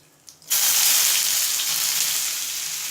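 Chopped onion hits hot oil with cumin in a pan on the stove, setting off a sudden loud, steady sizzle and crackle that keeps frying evenly after a quick clink at the start.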